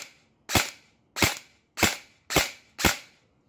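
An airsoft AEG M4 Bolt B4FS rifle with blowback recoil fires five sharp, loud single shots, evenly spaced and close, each with a crisp snap and quick decay.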